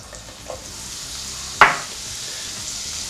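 Butter sizzles in a hot pan, a steady close hiss with one sharp clink of a utensil partway through.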